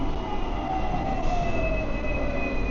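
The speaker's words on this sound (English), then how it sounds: "The ding ding is the tram." A Hong Kong tram passes on a street at night, a steady rolling rail rumble with faint wheel squeal and high tonal whine, with no clear bell strike standing out.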